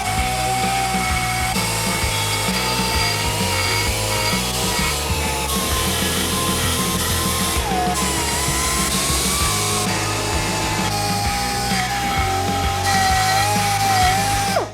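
A hand-held rotary tool grinds two notches into an aluminum Harley rocker box from an 883-to-1275 build, making a continuous high whine that shifts pitch slightly as it bites into the metal.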